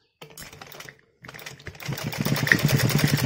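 Sewing machine stitching saree fabric, a short run of rapid needle clatter, a brief pause, then a steadier, louder mechanical whirring stitch close by.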